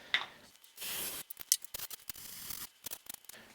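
Max brand brake cleaner sprayed from a can into a cup, in several short hissing bursts and one longer sustained spray, close by, separated by brief pauses with no talking.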